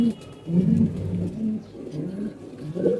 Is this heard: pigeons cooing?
yes